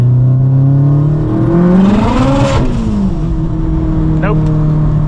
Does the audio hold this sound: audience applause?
no